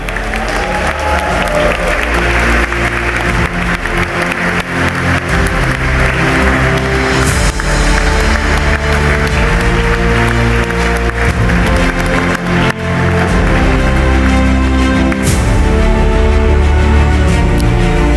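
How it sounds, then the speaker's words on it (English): A graduation ceremony audience for business programs applauds without pause, a dense, loud, steady wall of clapping with crowd noise, while a voice reads out names over it. "That could be the first time we've had a graduation that has clapped the whole time through."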